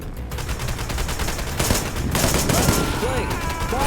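Rapid, sustained gunfire in the shooter game Wanted: Dead, a loud continuous stream of overlapping shots and impacts with no pause, close and dense.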